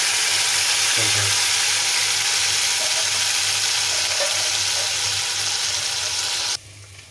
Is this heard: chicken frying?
yes